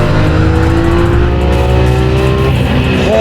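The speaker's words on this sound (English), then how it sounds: "it definitely makes up for with that 700 horsepower V12 engine fitted behind it" A 700-horsepower V12 Lamborghini engine roars loud and close as it accelerates during racing in Las Vegas, a steady sustained growl whose pitch climbs smoothly throughout.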